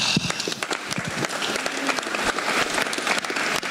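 Audience applause at a youth seminar: dense, steady clapping from many hands filling the room for several seconds, fairly loud and close, with no voices over it.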